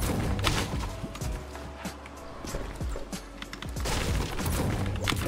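Gunfire from another player rings out in a ranked online shooter match, with several sharp shots and bursts over busy footsteps and movement noise.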